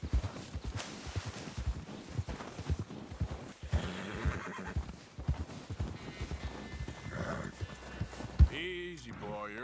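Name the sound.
horse neighing and hooves, Red Dead Redemption 2 video game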